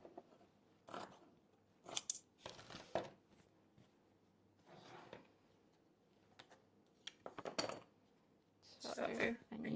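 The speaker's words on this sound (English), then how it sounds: "I'm just going to trim this up anyway." Scissors trim fabric in short, irregular bursts of close, crisp snipping separated by quiet pauses during a sewing session, with soft handling noises between cuts.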